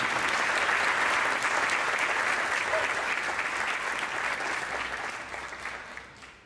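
An audience at a tribute evening gives a jazz trio sustained, dense applause that starts strong, then gradually thins and fades away toward the end.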